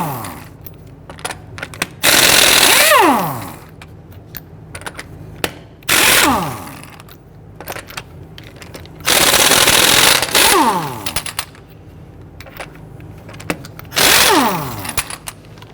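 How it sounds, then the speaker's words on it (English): Impact tool with a 19mm socket spinning off lug nuts on a 2010-2019 Ford Taurus rear wheel, four loud close bursts of whirring rattle, each winding down, separated by quieter handling noises. "Using a 19mm socket, loosen and remove the lug nuts"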